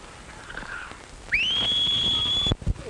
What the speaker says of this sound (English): Duckworth can whistle.